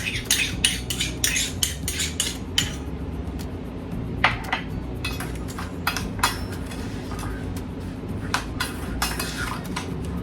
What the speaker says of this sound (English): Get a spoon and get all our buttermilk out of there.